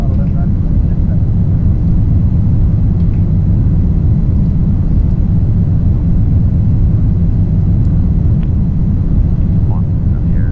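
Rocket engine in the Orbiter Apollo 13 spaceflight simulation game, a loud continuous low roar that holds steady throughout with no pause.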